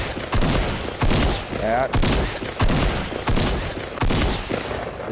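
Repeated bursts of gunfire in the Fortnite video game, loud and close, sharp shots recurring every second or so over roughly five seconds, with a player's voice briefly speaking between bursts.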